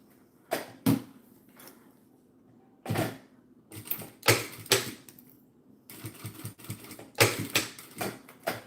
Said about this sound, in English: Just gonna top stitch that first.